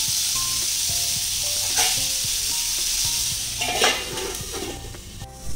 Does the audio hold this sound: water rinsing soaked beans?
no